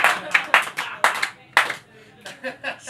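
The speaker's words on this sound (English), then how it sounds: "Slow clap for that one." A small audience at a fringe poetry performance gives a slow clap, a handful of distinct, spaced hand claps in loose rhythm, fairly close, with quieter claps trailing off at the end.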